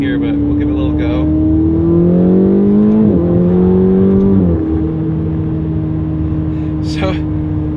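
A turbocharged Ferrari 488 engine accelerates from 20 to 60 mph, its loud droning tone climbing steadily in pitch through a gear change, then settling to a steady cruise as the run ends, heard from inside the car.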